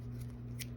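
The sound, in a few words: scissors cutting yarn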